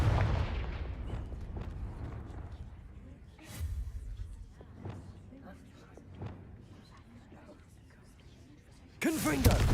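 Confringo explosive spell cast in Hogwarts Legacy, sounding as several sharp blasts and thuds spread through the clip with a loud burst at the end, mixed with game sounds and quiet voice.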